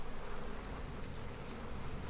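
Bees buzz continuously in the video game Massive Chalice, a steady droning hum from a swarm attacking an enemy, even and moderately loud throughout with no talk.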